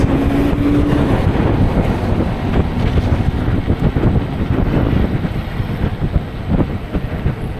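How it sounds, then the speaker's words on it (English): Steady wind roars against the microphone on an e-bike ride home through Orange County streets during a heat wave, a continuous low rumbling buffet that stays loud and close throughout. "Down lower in the streets, there's a lot of wind."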